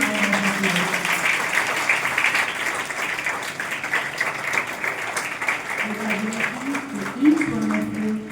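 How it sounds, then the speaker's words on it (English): An audience at a school Independence Day celebration gives a warm round of applause, dense sustained clapping that continues throughout at close range with voices mixed in. "Let us give them a warm,"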